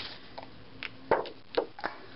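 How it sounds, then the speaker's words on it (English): Several short, crisp snips of scissors cutting through thick plastic, spaced irregularly, fairly quiet and close. "So I'm just going to cut this leaf out."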